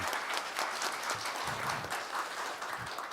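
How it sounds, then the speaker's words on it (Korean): Attendees at a land and infrastructure forum applaud, a close, moderately loud patter of many hands clapping with slight swells in rhythm, continuing steadily throughout with faint murmurs beneath. "박수 부탁드립니다"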